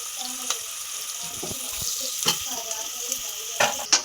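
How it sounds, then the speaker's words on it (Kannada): Onions frying in oil in a pan, a light crackling sizzle broken by scattered pops and occasional clinks of a spoon, moderately close with no talk. "ಎಣ್ಣೆ ಹಾಕೊಂಡಿದ್ದೀನಿ, ಅದಕ್ಕೆ ಈರುಳ್ಳಿ 3 ದಿಕ್ಕಾಮೇಲೆ ಈರುಳ್ಳಿ ಚೆನ್ನಾಗಿ ಫ್ರೈ ಆಗಬೇಕು"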